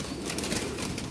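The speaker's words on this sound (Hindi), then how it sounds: "ये लाल आँखों में टैडी कबूतर जो बनाए हुए हैं ना बोस जी ने, ये वो कबूतर दिखा रहे हैं" Red-eyed teddy pigeons coo softly in a loft, a low, close, continuous murmur of overlapping calls with no talking.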